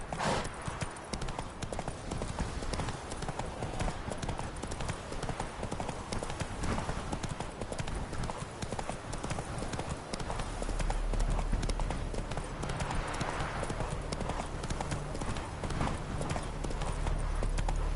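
Steady clip-clop of a horse named Roach trotting, the hoofbeats rhythmic and close throughout, with a low rumble joining in the latter part.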